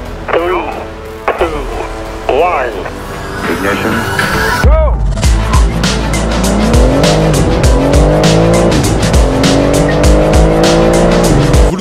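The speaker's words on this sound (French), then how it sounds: "elle est capable de vous propulser du 0 à 100 en quand même 3 secondes 9" A BMW i4 M50 electric car launches hard from 0 to 100 km/h with loud tire squeal and a rising motor whine that sweeps upward steadily, close and continuous after a brief lull.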